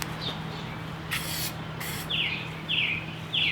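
Spray paint coating PVC cache containers, heard as a few short hissing bursts from an aerosol can with brief pauses between, close and fairly quiet against a steady low hum.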